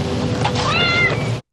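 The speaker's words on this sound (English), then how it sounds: "I think someone's playing cat sound effects at us." A single cat meow sound effect, a clear drawn-out rising and falling cry, close and loud, lasting just over a second before stopping abruptly.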